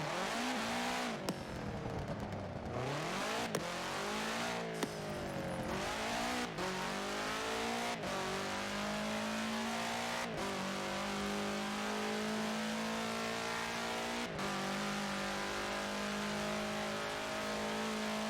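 A 1966 Volkswagen Beetle fitted with a 2.5-liter F4 turbo engine roars in Forza Horizon 4, revving and shifting through gears with sharp clicks between pulls, a loud, continuous close engine drone rising and settling over eighteen seconds.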